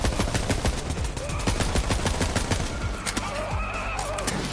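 Rapid gunfire from the shooter video game Borderlands 3: dense, continuous bursts of machine-gun-like shots, loud and close throughout, with a faint voice briefly under the shooting near the end.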